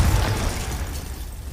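A Confringo fire spell blast in Hogwarts Legacy, a deep booming explosion that hits at the start and rumbles down over a second and a half, close and fairly loud.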